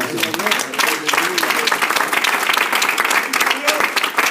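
Congregation clapping hands during an evening church worship service, brisk rhythmic palm claps with sharp repeated strikes, loud and near, while voices sing and call over them.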